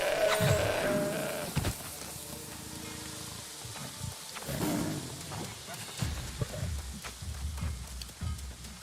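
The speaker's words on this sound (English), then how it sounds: "Oh, wait, sheep! Sheep!" Sheep bleating in the fantasy MMO New World, several calls scattered across a busy, textured game soundscape with ambient noise and rustling effects, moderately near and mixed among other game sounds.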